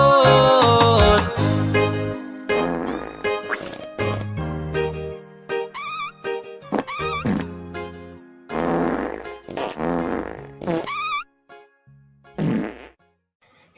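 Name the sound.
fart sound effects in a reggae song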